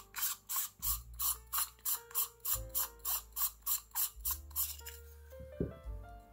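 Ratcheting clicks from unscrewing a finely threaded plastic part during a binocular teardown, a steady rhythm of about two to three clicks per second, close and quiet, with faint tonal hum underneath.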